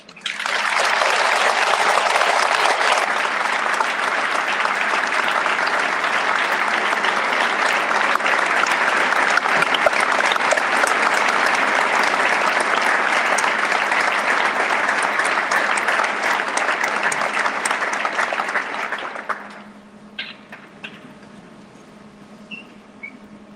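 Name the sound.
audience applause for veteran at assembly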